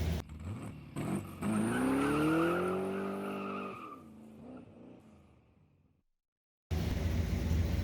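A Pontiac GTO with leaking power steering backs out, its engine rising in pitch and droning loudly for several seconds, then fading and dropping away before a brief gap and a burst of close noise.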